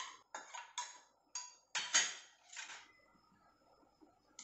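A spoon clinks and scrapes against a bowl while mixing omelette egg batter with green chilli, red chilli and salt, giving quiet, close, irregular taps and clatters.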